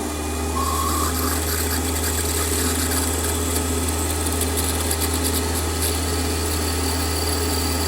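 5mm tapping drill breaking through the back edge of a metal knurling tool part, a steady machine motor hum with a faint high drilling whine over it, close and continuous.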